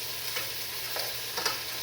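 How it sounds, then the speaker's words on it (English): Food sizzles steadily in a hot frying pan as pieces are flipped, a constant close hiss with a few brief scraping turns rising above it. "I'm just flipping these over because they're sizzling."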